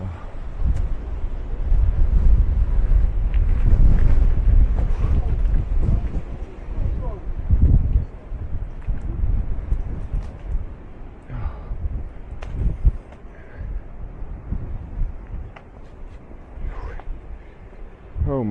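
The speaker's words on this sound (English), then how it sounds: "I can't go out in this kind of wind." Strong wind buffets the microphone outdoors during a bike race through the Atlas Mountains, loud rumbling gusts that ease and return, with a voice speaking now and then over the blustery noise.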